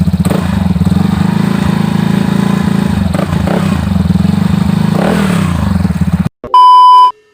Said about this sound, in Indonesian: Jadi untuk suara knalpotnya kayak gini teman-teman.